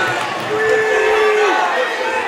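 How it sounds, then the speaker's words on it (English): Wrestling match crowd in a school gym shouting and screaming as a pin nears, a loud rising roar of voices with a commentator talking over it. "Got the crowd screaming pin."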